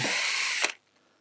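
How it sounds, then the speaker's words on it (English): A power drill spins during a motorcycle brake repair, a loud high whirring whine held for about two thirds of a second before cutting off abruptly into near silence. "I'm just going to chuck that into the drill, which will give me a lot more control."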